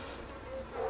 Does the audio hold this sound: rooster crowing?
no